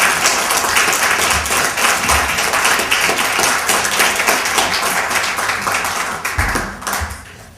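Audience at a poetry reading applauds the poets, dense loud clapping from a crowd that carries on steadily and then thins out to a few scattered claps at the end.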